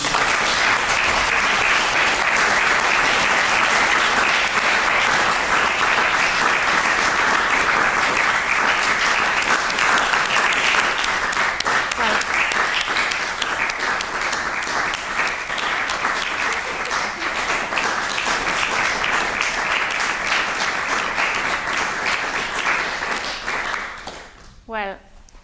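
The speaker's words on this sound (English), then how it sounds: "the long applause said many words" Long, dense applause from a large audience fills the room right after a keynote reading, steady and loud for over twenty seconds before tapering off abruptly at the end.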